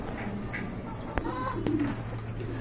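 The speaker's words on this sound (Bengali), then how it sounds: "আরেক জোড়া কবুতরের কালেকশন দেখতে পাচ্ছেন" A pair of yellow Danish pigeons coos in a loft, with a few soft, low coos close by over a quiet hum.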